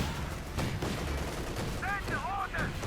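Rifle and BAR gunfire in the WWII strategy game Company of Heroes 2: rapid, overlapping shots and bursts crackling through a busy battle mix, with a voice talking over them.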